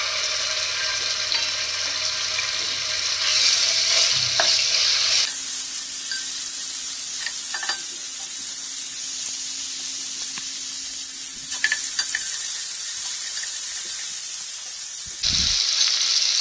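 Ginger garlic paste sizzles in hot oil in a pan, a steady close hiss with a few stirring scrapes and a brief clatter near the end, no talking.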